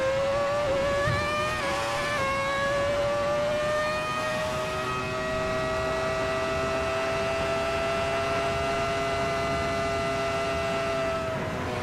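A Ferrari F2004 Formula 1 car at Monza in a Kunos racing game, its high engine note wailing steadily and rising and falling through shifts at part throttle, loud and sustained with no talking.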